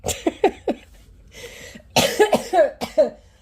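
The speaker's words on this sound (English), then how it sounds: "I'm probably going to be coughing through this video" A person coughs repeatedly in quick bursts, harsh and close, with a short pause before a second cluster of rough coughs.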